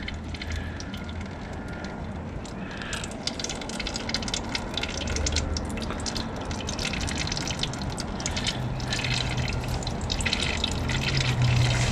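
Used engine oil drains slowly from a small nipple on a Husqvarna YTH24V42LS riding mower, giving a steady, continuous trickle and splatter of liquid close by, with no talking.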